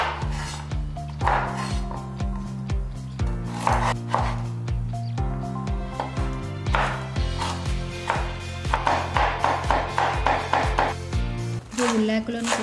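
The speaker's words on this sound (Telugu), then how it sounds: "తర్వాత క్యారెట్ని కూడా కట్ చేసుకోవాలి." A knife chops carrot into small pieces for a vegetable momo filling, giving quick, repeated close cuts on a board that are partly masked by loud, steady background music.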